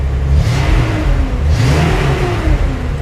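A Datsun 280Z engine with automatic transmission revs up twice with a muffled exhaust rumble, rising and settling in a steady, fairly loud drone, no voices.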